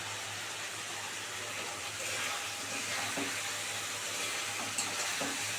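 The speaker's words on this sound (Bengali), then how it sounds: "এবার জল দিয়ে দিলাম" Water poured into a pan of Kashmiri red chili shing fish curry, a steady broadband rush that runs throughout the clip, with faint sizzling and a few small clinks under it.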